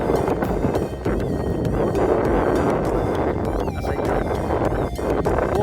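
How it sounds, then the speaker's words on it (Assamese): Steady wind buffets the microphone beside the Pagladiya river, a continuous loud rushing roar with gusty swells and no voices. "ইয়াত ধুনীয়াকৈ বতাহ দি আছে"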